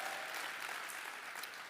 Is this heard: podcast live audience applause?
yes